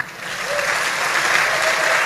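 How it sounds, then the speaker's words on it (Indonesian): Crowd applause at an Indonesian stand-up comedy show, a dense wash of clapping that builds quickly from a softer start and holds steady, loud and close. "coba tepuk tangan"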